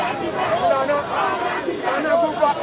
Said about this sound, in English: and so the chanting also increases